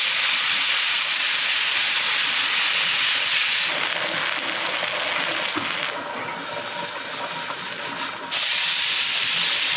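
Hash browns fry in plenty of hot butter in a carbon steel pan, a loud, steady, close hiss and sizzle that runs the whole time with small shifts in intensity.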